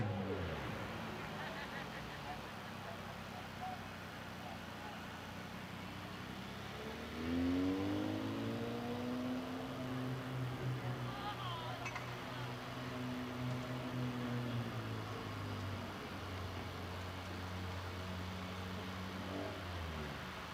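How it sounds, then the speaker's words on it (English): At Midvale Speedway the number 00 Keys race car, sponsored by Snap-on Tools, rolls into victory lane with a low engine rumble that rises in pitch midway, under an announcer's steady talk. "Pulling in to H&M Collision Victory Lane in the Keys car"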